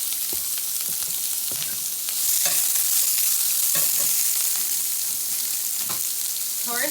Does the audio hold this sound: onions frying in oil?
yes